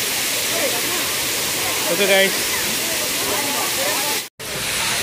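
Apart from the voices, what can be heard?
rushing water at Srinivasa Sagara dam in rain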